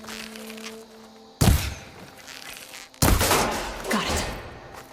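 Two sharp, loud gunshots ring out about a second and a half apart in Horizon Forbidden West as a padlock on a ladder is shot off, each blast trailing into a rumbling decay.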